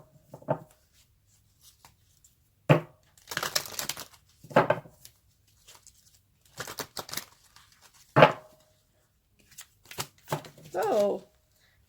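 A tarot or oracle deck is shuffled by hand in short bursts of riffling card noise separated by pauses, with a few cards slipping loose. A quiet voice comes in briefly between the shuffles.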